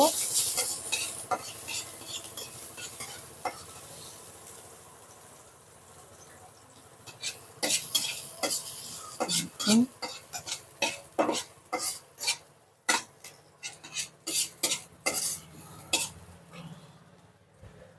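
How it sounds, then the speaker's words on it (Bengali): Onion frying in a hot pan for a flattened-rice (chira) breakfast snack, with a soft steady sizzle and repeated sharp scrapes and clinks of a spatula stirring against the metal, growing busier and louder in the second half. "আমি এবার অল্প অল্প করে পেঁয়াজটা একটু ভেজে নেব"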